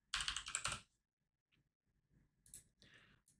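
Fingers type on a computer keyboard at close range: a quick, loud burst of clicking keystrokes, then a pause and a few softer, scattered key taps.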